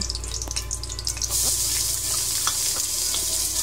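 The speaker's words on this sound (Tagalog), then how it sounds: "Magigisa po tayo ng sibuyas at bawang." Onion sautéing in hot oil in a preheated pan, a steady close sizzle that swells louder partway through, with faint clinks and scrapes of a utensil.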